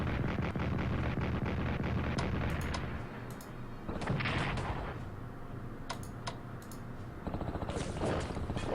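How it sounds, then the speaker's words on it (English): An artillery strike in the strategy game Strategic Command World at War, heard as a rumbling barrage of booms and cracking gunfire that rises and falls over several seconds. "Artillery strike."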